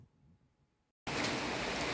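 Heavy hail mixed with rain pounds down outdoors during a June storm, starting abruptly after a near-silent pause and then roaring steadily and loudly with dense, continuous impacts.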